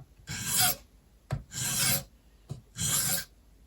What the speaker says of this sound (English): So cross filing, draw filing.